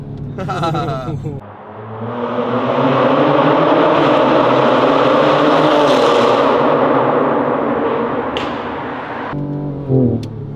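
A Ford Explorer ST with a 3-liter twin-turbo V6 and Valvetronic exhaust lets out a loud, swelling roar that holds for several seconds before cutting off, with people talking just before and after.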